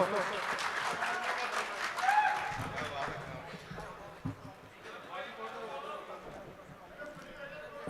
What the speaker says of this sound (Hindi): लीजिए अब एक बार जोरदार तालियों से उनका